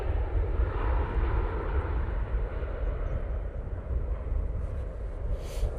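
An Airbus A340 airliner landing at Manchester Airport, its jet engines giving a steady broad distant roar with wind noise, holding even loudness throughout.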